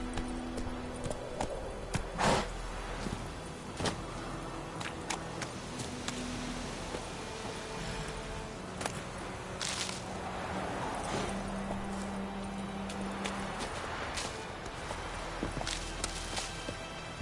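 Horse hooves clip-clop at a steady walking rhythm in The Witcher 3: Wild Hunt, close and even over quiet ambient background with occasional sharp knocks.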